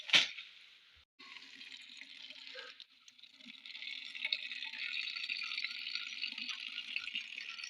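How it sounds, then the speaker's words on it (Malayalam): Borewell water gushes out in a steady, close hissing stream after a brief initial splash, continuing evenly without pause. "ഇത് കുഴൽക്കിണറിലെ വെള്ളമാണ് വരുന്നത്"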